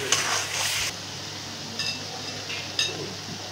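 Spiced masala of chilli powder, salt and green chillies frying with fish heads in a pan, a brief hissing sizzle with a few scraping stirs and light clinks, no talking.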